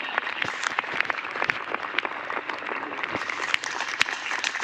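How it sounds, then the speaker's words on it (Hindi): Audience clapping at a mega event in Samastipur as someone is called onto the stage, scattered distinct hand claps forming a moderate, fairly distant patter with no voices. "एक जोरदार तालियां।"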